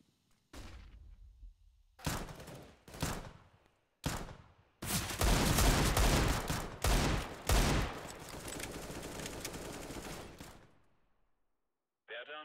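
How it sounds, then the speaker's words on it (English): A flashbang grenade goes off during a video game firefight: sharp separate cracks, then a dense, loud stretch of bangs and blasts that fades out, with a brief distant sound after a short silence. "Throwing flashbang."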